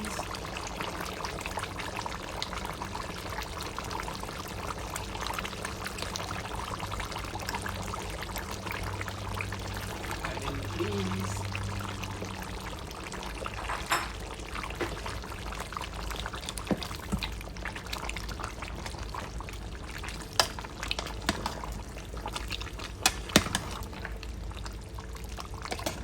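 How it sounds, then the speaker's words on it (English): Beans poured into a cooking pot of Jamaican-style oxtail, a continuous wet pouring rush that runs steadily for a long stretch, with a few small knocks and clinks near the end. "Now I'm gonna add the beans."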